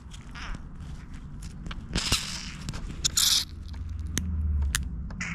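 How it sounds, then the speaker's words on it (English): Faint, irregular mechanical clicks and ratcheting snaps from the timing chain tensioner of a 2006 Chevrolet Colorado, with scraping and rattling in a quiet workshop. "You can hear that ratcheting."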